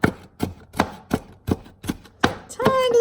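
A knife chops a shallot on a cutting board in sharp, evenly spaced thuds, about eight close knocks, with a short burst of voice at the end.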